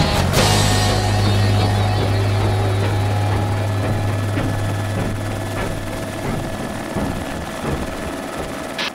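A helicopter flies close and loud, its steady low rotor and turbine drone running throughout and slowly easing off over the nine seconds, with no voices on top.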